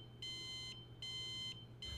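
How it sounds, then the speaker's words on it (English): Wyze Lock smart door lock alarm sounding, a series of high electronic beeps in regular half-second pulses with short gaps, faint and thin over a low steady hum. "The Wyze Lock also has an alarm that can go off if your door stays open or if your lock is jammed."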